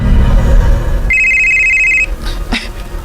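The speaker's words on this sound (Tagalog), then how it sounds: "Ay, bibagting ako cellphone." A cellphone rings with a steady, bright electronic tone for about a second, over loud low background music, and then cuts off.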